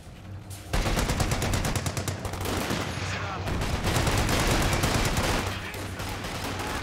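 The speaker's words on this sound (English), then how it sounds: "Let rip with the bazooka." Dense gunfire rattles without letup in a Company of Heroes 2 battle, rapid machine-gun bursts and heavy booms layered loudly together, with faint voices underneath.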